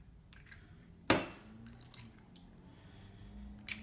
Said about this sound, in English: So you'll crack your eggs